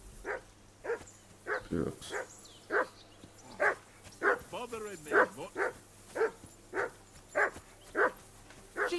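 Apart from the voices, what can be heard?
dog barking in Kingdom Come Deliverance 2 video game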